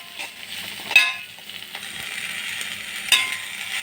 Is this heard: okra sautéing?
yes